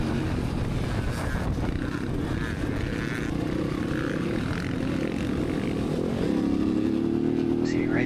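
Motorcycle engine from Nathan's bike passing on the track during Moto 2, a steady loud drone that lasts throughout and rises in pitch near the end. A second bike is close by.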